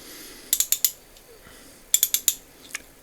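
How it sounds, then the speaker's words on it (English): A vintage Imperial Eastman 123C refrigeration ratchet clicks close and crisply in two quick bursts of four sharp clicks each, with a faint single click after, in a quiet room. "it was ratcheting one way, but it was being able to go around the other way"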